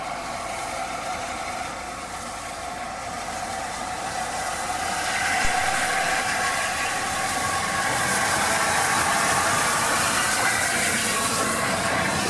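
LNER Class A4 steam locomotive Sir Nigel Gresley arriving on a cold December morning, a broad, steady rumble and hiss that slowly grows louder as it approaches, with no talking.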